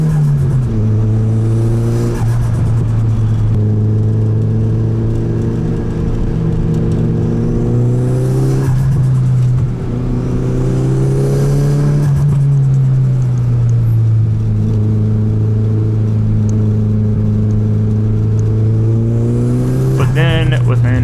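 A car driven aggressively off-road drones loudly and steadily, its engine pitch rising and falling as it works over rough ground, with a brief surge in revs near the end.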